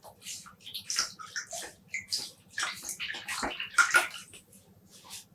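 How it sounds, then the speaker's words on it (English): Hand-squeezing excess water from a wet yarn skein before it goes into a dye pan, a close series of soft squelches, drips and splashes in irregular bursts, fairly quiet. "And I'll squeeze out some of the excess water."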